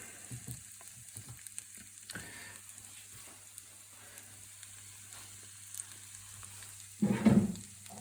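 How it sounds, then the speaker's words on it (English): Apples roasting in butter in a pan give a faint, steady sizzle with occasional light stirring noises, then a brief louder scrape and clatter near the end. "you can add the apples and roast them in butter"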